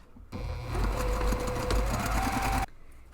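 A sewing machine stitches long fabric seams for a large padded camera bag, a close, rapid mechanical chatter that runs steadily for a couple of seconds before stopping abruptly.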